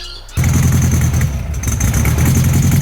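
Classic VW Beetle engine running rough from a dirt-clogged carburetor, a loud close idle that kicks in abruptly and keeps up an uneven, lumpy low chug throughout with no talking.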